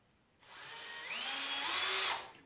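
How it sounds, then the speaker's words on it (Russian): A power drill bores holes into a wooden oak handle, a single burst of whining motor that rises in pitch as it spins up, then cuts off after under two seconds. "и в ручечке аккуратненько сверлим дырочки"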